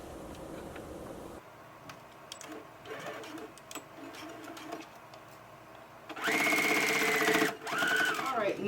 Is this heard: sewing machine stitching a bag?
yes